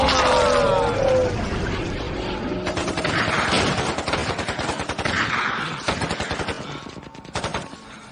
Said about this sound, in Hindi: रुकना मत, वहीं पर फायर करते रहो।